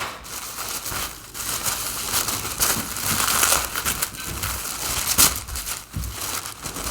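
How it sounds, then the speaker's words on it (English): Crinkly plastic mail-order packaging being unwrapped, a steady run of loud, close crackling and rustling with sharper tearing bursts throughout, no talking. "So should we unwrap it and see what it is?"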